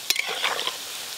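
Potato and semolina snacks frying in hot oil, a short burst of close bubbling sizzle with a sharp click at the start, fading to a softer hiss.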